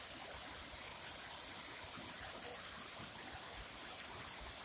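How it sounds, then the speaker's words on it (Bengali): Mayabini waterfall in Sylhet, at the foot of the Meghalaya hills, pours down in a constant, even roar of rushing water, alone with no voices. "কিভাবে পানিটা পড়তেছে দেখুন একবার গর্জন করতেছে"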